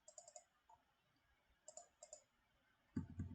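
A computer mouse clicks crisply on a number in AutoCAD, quiet close-up clicks in small pairs and groups, with a slightly louder bump of handling noise at the end.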